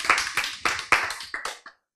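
Audience clapping during a lecture, a short burst of hand claps with distinct bursts that fade out after about a second and a half, leaving silence.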